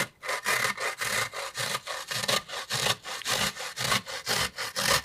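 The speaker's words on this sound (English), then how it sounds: "using the smaller side of your box grater, you're just going to grate this onion up" An onion scraped up and down the small-holed side of a box grater gives a steady, rhythmic rasp, with about a dozen close, loud strokes and no talk.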